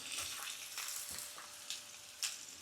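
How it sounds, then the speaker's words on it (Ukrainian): Chunks of pumpkin frying in a pan, a soft, steady sizzle with faint crackles and a few brief sharper pops, fairly quiet and close, no talking. "Тому трішки підсмажуємо."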